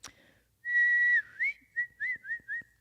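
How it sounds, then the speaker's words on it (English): A person whistles to call a dog: one long sustained note, then a quick run of short rising and falling chirps, clear and close in a quiet outdoor setting. "I'm going to whistle for Riley."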